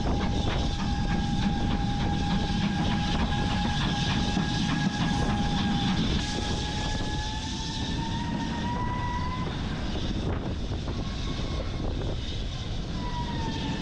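A Bluebell Railway train running into Horsted Keynes station, heard as a continuous rumbling roll with a sustained whistle-like tone that bends in pitch, loud and steady throughout with no talking.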